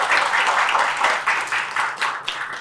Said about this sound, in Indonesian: Boleh tepuk tangan dulu buat di sini ya.